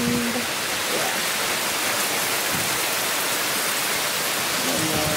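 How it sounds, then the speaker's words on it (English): Heavy torrential rain with wind pours down steadily outside a house, a dense, unbroken roar of water filling the whole clip at close range. "now this is the more of the rain I was expecting. That they were predicting. A little more torrential."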